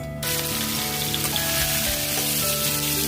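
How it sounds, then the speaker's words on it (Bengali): Sliced ridge gourd sizzles and crackles steadily in hot oil over a paste tempered with black cumin, a close, continuous frying hiss with faint stirring, no voices. "এখন এখানে দিয়ে দেবো আমি ঝিঙ্গাগুলো।"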